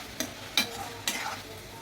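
Ginger and garlic masala frying in a pan for Assamese sour fish curry, stirred with three distinct scraping strokes over a steady soft sizzle, close up and without talk.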